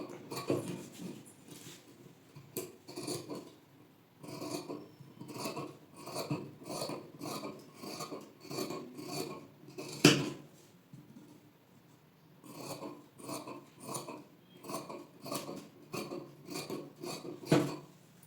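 Scissors snip repeatedly through blouse fabric, cutting along chalked markings for a back boat-neck, front normal-neck blouse in a tailoring session. The crisp cuts come close and steady in quick bursts, each run of snips separated by short pauses, with no talk over them.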